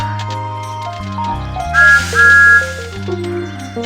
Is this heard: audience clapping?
no